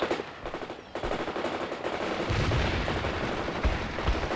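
Gunfire from the World in Conflict video game comes as dense, rapid machine-gun bursts that build into a heavy, sustained barrage with low booms underneath.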